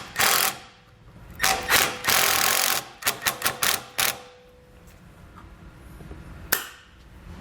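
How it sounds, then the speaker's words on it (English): Self-tapping screws being driven to fix an electrical connector to a front bracket, a series of sharp buzzing bursts from a power driver, several short rapid pulses, then quiet with a single final click. "I'm going to grab a couple self-tapping screws that came with our base plate"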